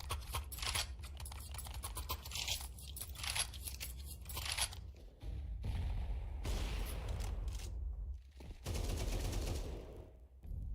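Rapid bursts of AK rifle fire in a competitive first-person shooter match, loud and close, mixed with clattering gunfire and other game effects throughout, with no talk over it.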